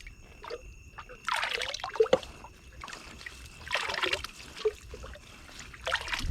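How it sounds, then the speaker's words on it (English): A hot metal exhaust tip for a Mazda 323 dipped into water outdoors at night, giving quiet, uneven bursts of sizzling hiss and bubbling trickle that come and go several times. "I'm gonna go throw it in the water a little bit."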